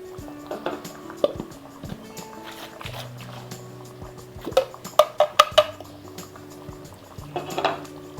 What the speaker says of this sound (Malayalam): ഇത് മിക്സി തന്നെ ഒന്ന് കഴുകിയിട്ട് ഒഴിക്കുന്നുണ്ട്